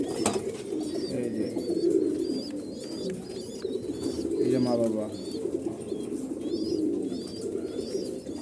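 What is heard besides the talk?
pigeons cooing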